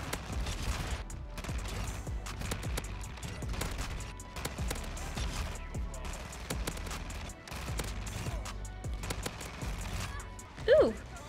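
Rapid bursts of TEC 9 gunfire in the video game Modern Warfare 2, fired from the hip in quick repeated clusters, sitting under steady background sound.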